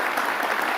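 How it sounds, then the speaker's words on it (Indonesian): An audience at a school and reading-house event breaks into applause, a dense, loud patter of many hands clapping for the whole moment. "jangan tepuk tangan dulu"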